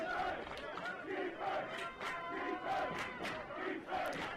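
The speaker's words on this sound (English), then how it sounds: "The crowd is in this game. They are very much into this game." A crowd roars at a Division III college football game between Franklin and Manchester in Indiana, a loud, sustained cheer with rhythmic swells and chant-like pulses.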